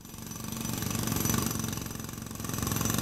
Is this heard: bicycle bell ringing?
no